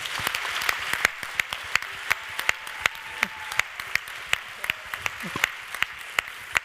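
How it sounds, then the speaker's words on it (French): Scattered applause from an audience at a business awards ceremony, a small group clapping in sparse, uneven claps with low murmuring beneath. "je pense qu'on peut l'applaudir chaleureusement"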